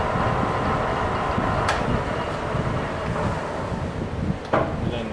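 A Goodway GW1660 gap bed lathe with a new 10-inch three-jaw chuck running at 360 RPM gives a steady, dense mechanical hum and rumble throughout, with a couple of brief sharper clicks near the end.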